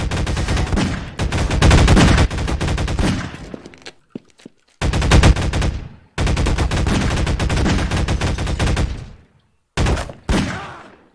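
Rapid gunfire from the Half-Life 2 Deathmatch video game, loud bursts of automatic shots with brief pauses between volleys and a short final burst near the end.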